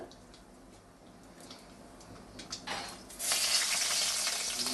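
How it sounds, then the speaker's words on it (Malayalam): Ginger and garlic stirred in hot oil for a kappa beef biryani, a steady sizzle that swells louder partway through with faint spoon scrapes, no voices. "ഇഞ്ചി വെളുത്തുള്ളി ഇട്ടു ഒന്ന് ചെറുതായിട്ട് ഇളക്കി കൊടുക്കണം"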